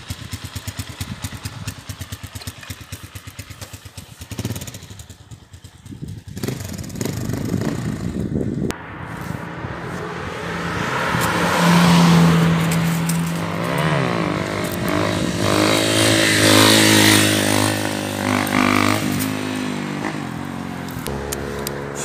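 A motorcycle engine, likely an MCX used for stunt riding, runs close by with rough idle and clattering before rising into louder, sustained revving that holds steady for the rest of the stretch.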